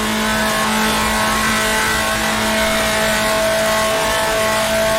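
A 1960s Formula 2 race car in the Grand Prix Legends game drones at high revs as it shifts up toward fifth gear, a loud, steady engine whine heard alone and close with a constant tone.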